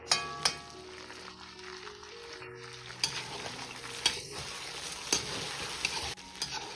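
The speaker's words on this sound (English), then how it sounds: "From this moment, let it fry for 8 to 10 minutes." Chicken and onions fry together in a pot for plov, a soft continuous sizzle broken by several sharp clicks of a skimmer or spoon against the pot, no talking.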